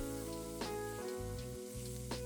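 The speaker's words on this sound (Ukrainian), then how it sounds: "будемо обсмажувати цибульку" Sliced onions sizzle in a hot pan alongside frying pork for a Ukrainian meat recipe. The bubbling crackle is steady and near, broken by brief scraping stirs, with no voices.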